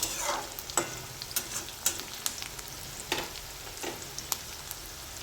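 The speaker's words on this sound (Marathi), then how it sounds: "मग आता खाली येतो तेव्हा शेंगदाणे आणि कांदा बरोबर तळून घ्यायचा आहे." Peanuts and onion fry in oil in a pan, giving a steady sizzle with sharp clicks and scrapes of stirring scattered throughout, close and fairly quiet, with no voices.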